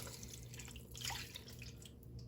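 Broth made from paste and water is poured over the top of a roast in a pan, giving a faint, steady liquid trickle and drip with no voices.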